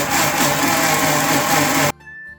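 A mixer grinder blends wheat flour, banana and jaggery in its jar, running loud and steady for about two seconds before switching off abruptly, leaving near silence.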